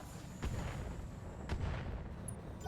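Indirect-fire artillery shots in the RogueTech mod of BattleTech, two heavy booms fired one after another about a second apart, each a sharp thud with a short rumbling tail, heard alone over a low background.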